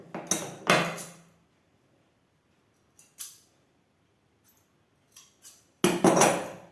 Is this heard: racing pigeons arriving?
no